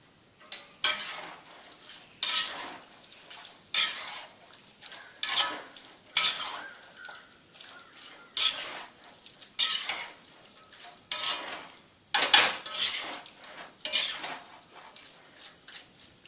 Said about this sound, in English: Mix it nicely so that all these masala, all the sauces, everything will nicely coat the potatoes